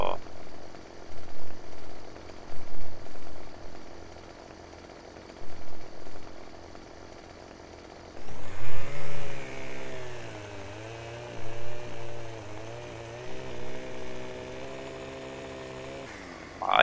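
Chainsaw felling a tree in Farming Simulator 15 runs with a steady engine hum, then revs up into a louder, wavering buzz as it cuts; someone talks over it.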